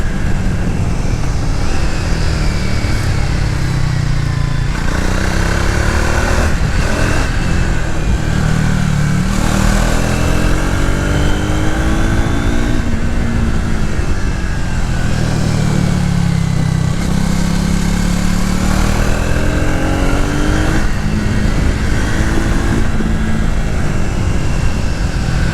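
A Triumph Speed 400 motorcycle runs with the throttle open, its engine droning loudly and continuously with rising and falling revs, close to the rider, accompanied by strong wind rush.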